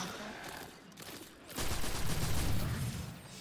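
Dense full-auto gunfire from the video game Destiny 2 swells into a sustained loud burst after a quieter stretch of game noise, with some voice mixed underneath.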